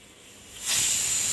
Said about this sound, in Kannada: ಕುಕ್ಕರ್ ಸರಿತಾ ಸರಿತಾ ಅಂತ ಕರಿತಾ ಇದೆ